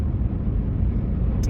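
Ford Lightning pickup towing a 24-foot enclosed trailer, heard from inside as a steady low road rumble and drone that stays even throughout with no voices.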